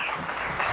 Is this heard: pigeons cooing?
no